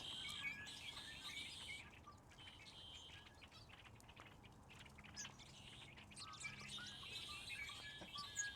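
A bird calls from a tree with faint, repeated chirps and tweets over a steady outdoor background hiss, no voices.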